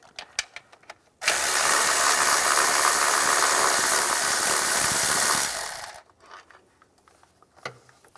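A ratchet turning an E7 socket on the intake manifold studs of a 2004-2010 BMW X3 gives a loud, close, continuous burst of rapid ratcheting lasting about five seconds, with quiet before and after and no talking.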